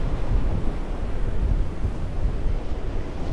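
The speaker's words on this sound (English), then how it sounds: "Right now the wind is rolling in between those two buildings." Strong gusting wind, around 35 mph, blowing between two buildings, a loud rumbling buffet that swells and eases in rough waves, with no voices.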